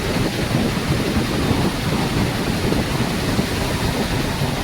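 Strong sea waves around a ferry crossing near Matnog in Bicol, a dense continuous roar of churning water and wind, loud and steady throughout.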